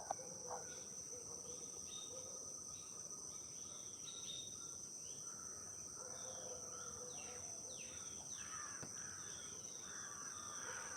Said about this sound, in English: So lots of grey-necked crows.